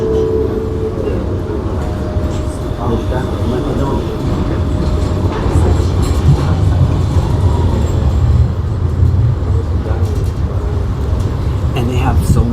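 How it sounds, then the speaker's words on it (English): A modified tram in Sofia rumbles along the rails with a heavy, continuous low roar and faint rattling, loud and close throughout, with occasional squeals above the drone. "it sounds a little bit like this tram was modified a little bit"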